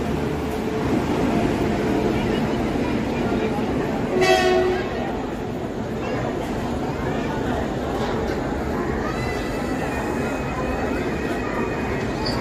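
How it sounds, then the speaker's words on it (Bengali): The Amritsar–Howrah Mail, train number 13006, passes through a station; a steady rolling rumble of coaches runs throughout, with a brief horn near the start, heard fairly close. "এই অমৃতসর হাওড়া গাড়ি ঢুকে গেল।"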